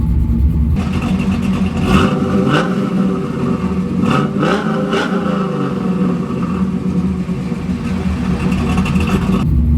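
A 1992 Chevrolet Camaro RS with a small-block V8 and a big cam rumbles at idle, then revs up sharply several times in quick blips over its loping, choppy exhaust burble, loud and close throughout.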